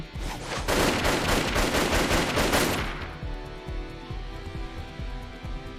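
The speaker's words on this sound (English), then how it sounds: "Bullets whizzed in both directions for an instant" Rapid gunfire from both sides in the video game 428: Shibuya Scramble, a dense loud burst of overlapping shots for about three seconds that then thins into scattered sharp pops and fading echoes.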